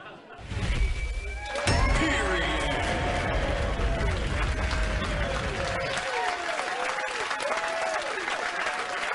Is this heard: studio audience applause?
yes